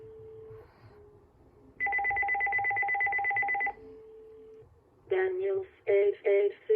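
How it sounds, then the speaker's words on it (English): Uniden landline phone ringing indoors with a steady electronic warble, a pause, then a longer ring burst, followed by a synthesized voice announcing the caller in short choppy syllables. "Now I'm going to show you guys the caller announce real quick."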